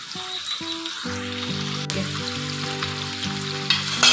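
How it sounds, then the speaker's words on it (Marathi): Lemon pepper chicken shallow frying in a pan over a medium flame, a steady close sizzle running throughout beneath a bright tonal melody, with a louder crackle near the end. "मीडियम फ्लेमवर आपल्याला हे 2 मिनिटं परत फ्राय करून घ्यायचे छान शॅलो."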